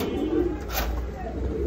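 Old fancy pigeon cooing, a short, soft, low coo close by against a faint background murmur.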